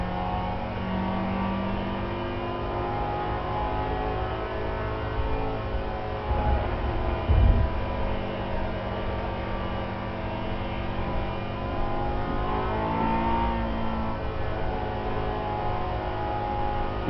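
Steady engine drone from a manual-transmission car cruising through a curve without shifting, a constant mid-level hum with a short louder bump partway through and no talking.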